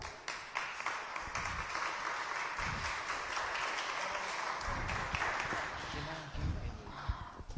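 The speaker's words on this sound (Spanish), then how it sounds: "podemos darle un fuerte aplauso" Steady applause from an audience at a Spanish-language talk on contemporary reflections about suicide, welcoming a speaker, fills the room for several seconds in even, sustained clapping with a few louder claps and room murmur beneath.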